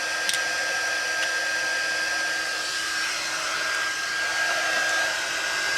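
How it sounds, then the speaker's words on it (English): A handheld heat gun warms embossing powder for DIY buttons, blowing a steady, loud, close airy roar with a fixed motor whine that holds without a break throughout. "I'm going to heat my gun up a little bit here"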